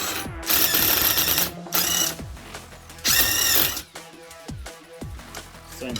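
A Ryobi One+ HP cordless impact wrench driving a 1/2 inch bolt through a 1/2 inch socket on mid torque setting 3, giving loud close bursts of rapid mechanical hammering with short pauses between them.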